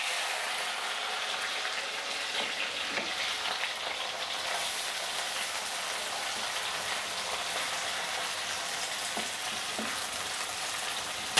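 Onions fry in a pan for daal karela, a continuous close sizzle and crackle with faint stirring taps, steady and moderately loud with no voices.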